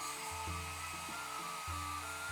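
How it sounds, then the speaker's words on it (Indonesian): Hair dryer blowing a steady stream of air onto a realme 15 Pro Game of Thrones Edition phone, a continuous loud whoosh with a low motor hum that shifts in pitch a few times, with no voices. "Cuma hair dryer gua aja jelek."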